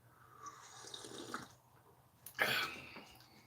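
Hot water poured for a lime drink: a quiet trickle and clink early on, then a short, louder splashing pour near the end against a faint indoor background.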